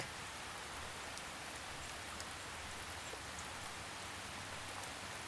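Gentle drizzle of rain falling steadily, a soft, even hiss of fine drops with faint pattering, distant and quiet with no voices.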